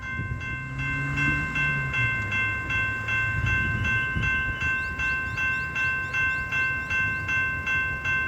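A freight train rolls steadily past a level crossing, a continuous near rumble of wheels and cars, while the crossing gates' bell or alarm tones ring in a regular repeating pattern above it.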